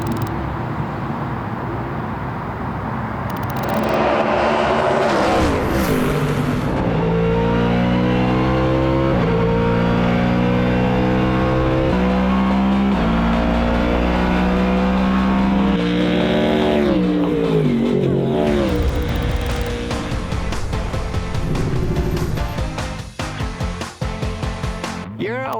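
A Ford Mustang endurance race car engine revs hard and climbs through the gears, loud and close, with a roaring rise, a gear-change dip and a renewed surge before it fades.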